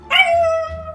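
A small dog gives one drawn-out, whining yelp lasting about a second, clear and close with no talking over it.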